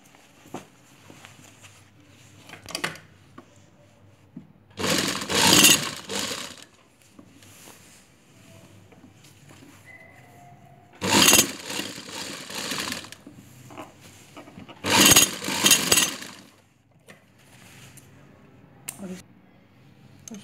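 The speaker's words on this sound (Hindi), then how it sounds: "इसको इसके हम चारों तरफ सिलाई लगा देंगे।" A sewing machine stitches around the edge of a boxer shorts piece in three loud bursts, separated by quieter handling noise and faint talk.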